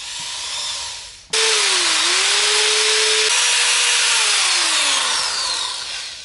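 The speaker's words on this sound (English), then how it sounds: "This drill sounds like a fucking angle grinder." A power drill whirs loudly and close, its pitch dipping and rising as it bites, after a short stretch of background noise.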